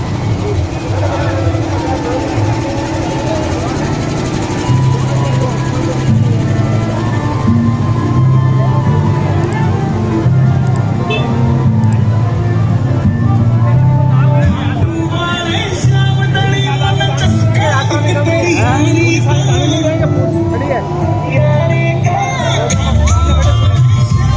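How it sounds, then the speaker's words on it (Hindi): A large crowd gathered at a function in Vrindavan, a steady murmur of many voices with traffic noise and occasional shouts mixed in, continuous and fairly loud, with nearby speech over it. "बहुत ही भीड़ लगा हुआ है।"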